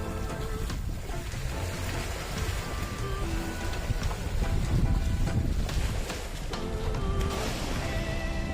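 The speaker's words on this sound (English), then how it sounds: "People bring horses down the beach." Horses on a beach in St. Croix, US Virgin Islands, amid steady roaring surf and wind, with occasional faint whinnies and movement sounds scattered throughout; no talking.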